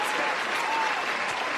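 Dense, steady applause from a crowd, filling the whole short stretch at an even level with no clear breaks.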